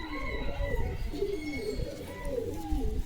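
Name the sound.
pigeons cooing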